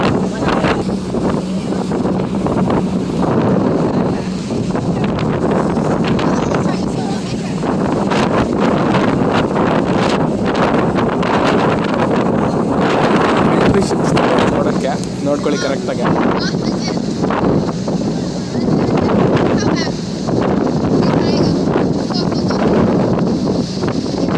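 Strong wind on a Sydney ferry buffets the microphone continuously, roaring and gusting over a low engine-like drone, with voices faintly audible beneath it.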